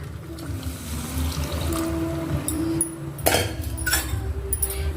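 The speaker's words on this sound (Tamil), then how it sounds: "ஜாரை கழுவி எடுத்தும் பாருங்கள் இந்த தண்ணியை இதோடு ஆட் பண்ணிக்கலாம்" Rinse water from a grinder jar is poured into a simmering curry leaf kuzhambu in a home kitchen: a soft trickle and splash with light metallic clinks of the jar, over a steady background hum.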